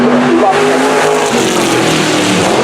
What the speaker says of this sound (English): Lots of grunt from that Chevrolet V8.